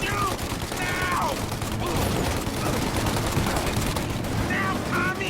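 Shootout gunfire in Mafia Definitive Edition, a steady dense rattle of shots filling the whole stretch at moderate distance, with short bright cracks rising over continuous background noise and in-game voices.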